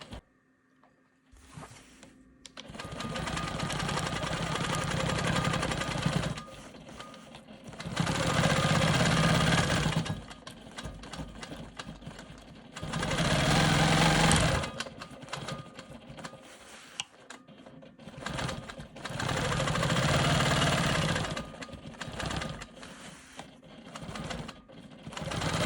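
A sewing machine quilts a star cross block in repeated bursts of rapid, loud mechanical stitching, each lasting a few seconds and separated by quieter pauses and faint handling, with no talking.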